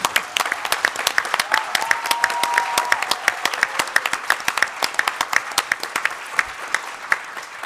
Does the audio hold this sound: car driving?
no